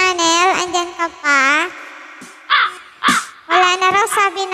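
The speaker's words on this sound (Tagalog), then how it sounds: "Wala na raw, sabi ng uwak." Crow cawing sound effect: a loud series of harsh, drawn-out caws in quick bursts with short gaps between them, close and prominent.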